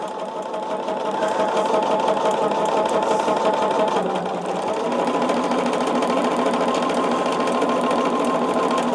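A sewing machine runs a long continuous stitch, its steady mechanical whir loud and close, with a slight change in pitch about halfway through and no voices.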